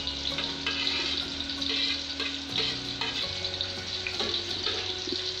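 Chopped onions frying in oil for khichdi and mutton keema, a steady close sizzle with scraping stirs and a low kitchen hum beneath, no talking.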